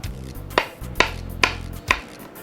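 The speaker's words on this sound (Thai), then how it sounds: "หลังจากนั้นเราก็มาหั่นให้มันเป็นเต่าๆนะครับ" A knife chops peeled food into cubes on a cutting board. Four sharp, evenly spaced chops land close and clear over a low background hum.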